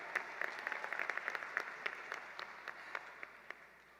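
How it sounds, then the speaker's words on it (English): A crowd at a 2019 high school graduation ceremony claps in a scattered round of applause that is moderately distant and fades out over a few seconds. "So Ava, we applaud you."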